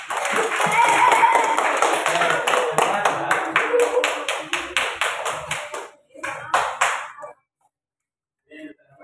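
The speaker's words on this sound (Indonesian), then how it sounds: "Tepuk tangan semuanya." A group of participants in a classroom session clapping together, rapid steady claps that start strong, thin out into scattered bursts and die away near the end, with voices talking over them.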